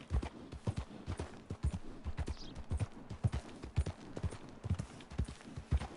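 Horse hooves gallop in Red Dead Redemption 2, a quick steady rhythmic clip-clop repeating loud and close throughout, with faint game ambience behind it.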